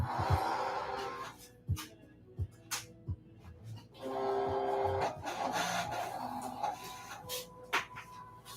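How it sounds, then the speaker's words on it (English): A sticker printer whirs and rasps as it feeds and prints, a close mechanical run with repeated soft thumps and sliding scrapes throughout. "I'm loading up the sticker machine"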